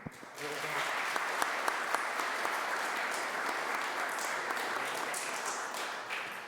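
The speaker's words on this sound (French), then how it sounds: "les applaudir." A church congregation applauds during Mass, a steady, moderately distant patter of many hands that rises quickly and holds evenly with a few sharper individual claps.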